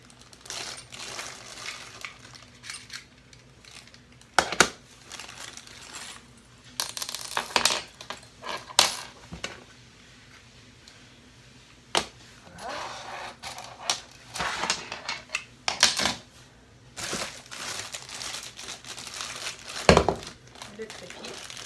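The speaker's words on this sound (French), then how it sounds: "Déballer le speed loader" An airsoft speed loader for an L96 rifle is unpacked, making intermittent plastic crinkling, rustling and small clicking sounds close by, with a few sharper knocks between them.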